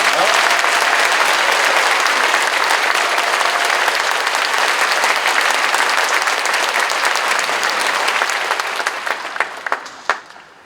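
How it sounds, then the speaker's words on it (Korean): Loud, prolonged applause from a large congregation at a Korean church commemorative service marking 140 years of Korean Christianity, a dense wash of clapping that thins in the last seconds into a few scattered claps. "다른 교파 교단의 총회장님들 순수하실 때도 박수를 좀 그렇게 길게 쳐주시면 고맙겠습니다"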